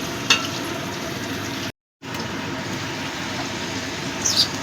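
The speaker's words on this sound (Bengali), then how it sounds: "আলুগুলোকে একটু লাল লাল করে ভেজে নেব।" Potato pieces frying in hot oil while preparing a country chicken curry, a steady close sizzle and crackle with a few brief stirring clinks, interrupted by a short moment of silence.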